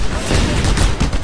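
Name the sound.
rocket launcher fire in the video game Just Cause 2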